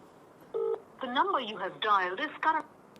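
Telephone keypad tones beep in a quick sequence of short, clear electronic notes, loud and close with no other sound.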